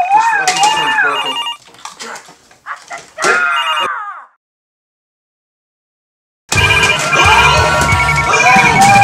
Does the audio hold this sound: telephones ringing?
yes